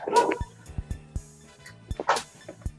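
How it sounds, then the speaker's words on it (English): A puppy barks indoors in a block of flats, a few loud sharp barks and yips in quick bursts close by, with no talk over them. "Oh, my dog's barking!"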